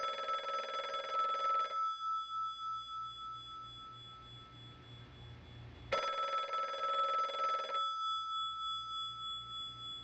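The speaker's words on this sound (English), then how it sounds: "Somebody answer that damn phone." Telephone ringing in two long bursts of bright, steady tones separated by a pause of a few seconds, moderately loud, with no one talking.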